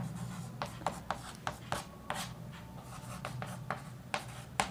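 Chalk or marker strokes scratch and tap on a board during a maths lesson on triangle angles, coming in short irregular bursts, fairly close and quiet with no talk.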